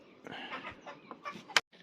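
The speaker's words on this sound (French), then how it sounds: "pour ce qui est aussi dans le parquet des poules Brahma faux verminés noirs, on a aussi les deux petits là" Black Brahma hens in a backyard coop give soft, close clucks and short calls in quick succession, ending with one sharp squawk.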